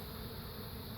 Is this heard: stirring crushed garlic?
no